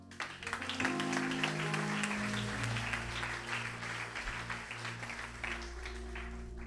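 A church congregation applauds in praise, with sustained clapping carried over a held organ or keyboard chord, steady and fairly distant in a reverberant hall.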